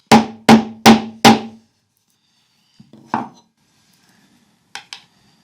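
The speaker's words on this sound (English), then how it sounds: "take whatever hammer you use as a fretting hammer and give this a few whacks?" A fretting hammer whacks a guitar fret four times in quick succession, sharp loud knocks up close, followed after a pause by a few fainter taps.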